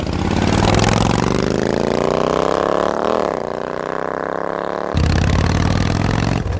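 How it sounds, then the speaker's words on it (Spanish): Several Harley motorcycle engines rev and roar together as riders pull away in a music video, a loud continuous rising drone that sweeps in pitch midway, dips slightly, then surges again near the end. "Han venido en un Mustang y se van en las Harley."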